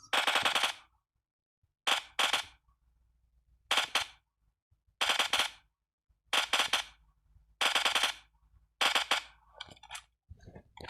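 Loud bursts of rapid gunfire in a video game, seven or eight separate volleys broken by short silences, close and sharp, with no talking.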